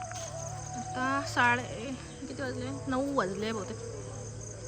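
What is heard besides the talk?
crickets chirping at night outside a haveli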